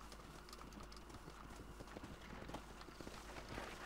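A horse gallops in the video game Red Dead Redemption, its steady clip-clop hoofbeats quiet and continuous over a low ambient bed.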